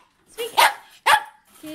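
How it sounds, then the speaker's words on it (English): A dog barks twice on command, two short sharp woofs about half a second apart, close by, with a person's voice giving commands around them. "Diesel, speak. Speak."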